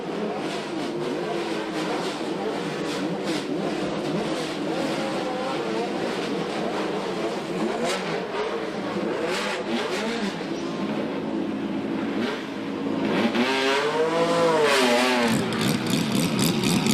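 Group C race cars at Brands Hatch pull away from a crowded pit lane, engines revving and rising in pitch one after another, growing louder toward the end, with a commentator's voice running over them.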